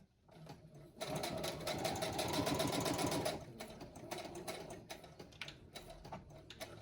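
A sewing machine stitches through fabric in one steady run of about two seconds, close and clear, followed by lighter clicks and handling noises.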